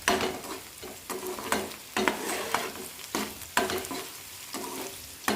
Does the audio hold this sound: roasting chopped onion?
yes